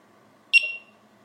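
A Nash Siren R3 carp-fishing bite alarm gives a single sharp electronic beep that tails off quickly against near silence.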